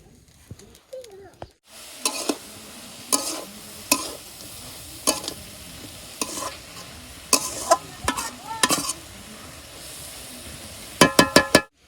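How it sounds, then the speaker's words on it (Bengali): Vegetable bhaji frying in a village kitchen wok, a continuous close sizzle punctuated by repeated sharp scraping strokes of a spatula at a steady rhythm, with a quick cluster of clatters at the end. "এই কড়াইতেই ভাজি ভেজে ফেলবো আর ধোবো না"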